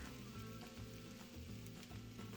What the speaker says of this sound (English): Then take the lid off and let fry for another 5 minutes or so